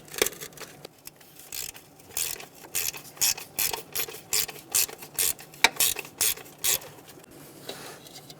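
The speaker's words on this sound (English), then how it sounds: "We're going to remove these 2 bolts." A ratchet wrench loosens the two distributor cap bolts on a 1988-1999 GMC K1500 with a 5.7L V8, giving close, steady rapid clicking in repeated bursts, with no talk.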